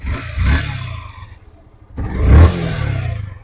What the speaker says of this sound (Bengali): ইয়ামাহা গাড়িটার সাউন্ডটা দেখেন